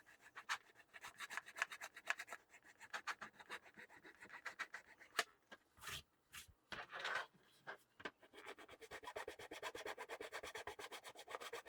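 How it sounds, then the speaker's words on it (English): Hand sanding and filing on a small part for a USS Reliant scale model: quick rhythmic rasping strokes, close and fairly soft, with a brief pause midway before a steadier run of scrubbing. "And just get this sanded up."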